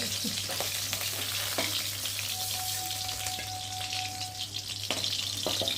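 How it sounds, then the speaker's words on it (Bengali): Fish frying in hot oil, a constant close crackle and splutter with occasional pops and a faint low hum beneath, no speech. "যা চটপট চটপট করে ফুটছে"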